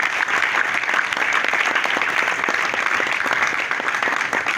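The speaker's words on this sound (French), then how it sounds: "vos applaudissements" A political audience at a rally applauds: steady, dense clapping from many hands that holds at an even level throughout, with no voices above it.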